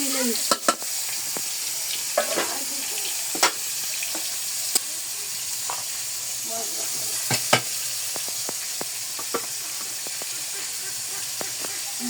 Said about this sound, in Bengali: পেঁয়াজ ফোড়নি আমার দেখানো হয়নি এই যে পেঁয়াজ ফোড়নি